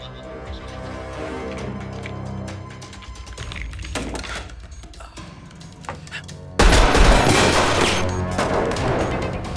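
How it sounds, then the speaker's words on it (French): Bursts of gunfire crackle in sharp, rapid clusters, growing louder and denser toward the end, over a background of music and noise. "Il y a encore des coups de feu."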